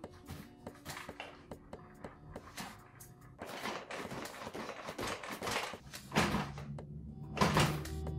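A heavy adult climbs onto and jumps on a Phantom Throne gaming chair, setting off repeated creaks, thumps and rustling of padding and frame, loud and close with no speech.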